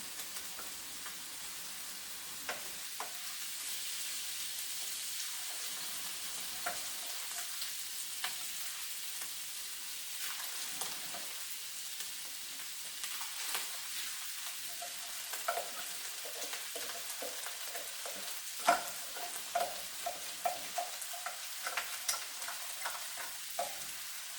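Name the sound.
white rice frying and stirred in pan for scallop fried rice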